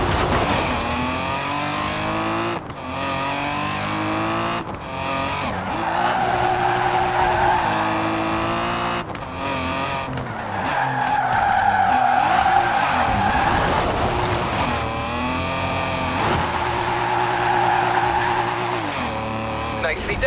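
A car drifts in the racing game Forza Horizon 4, with engine revs rising and falling and long, loud tire squeals through repeated slides, while a voice talks over it.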